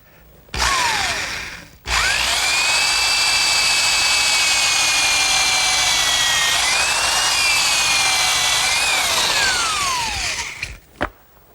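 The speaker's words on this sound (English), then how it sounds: "I'm going to pre-drill for a screw." A power drill pre-drills a screw hole in a plywood rolling shop cabinet, running loud and steady for about nine seconds with a whining pitch that dips and rises under load before spinning down, preceded by a brief burst.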